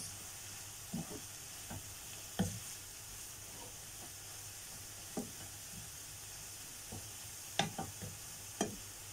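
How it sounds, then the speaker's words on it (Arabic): Onions sautéed in a pan without oil for an aubergine dish, a quiet continuous sizzle broken by sporadic scraping stirs and light clinks of the spoon, close and soft, no voices. "وهنبتدي بقى نقلب البصل بتاعنا ده اهو كده. انا عايزاه يتشوح خالص"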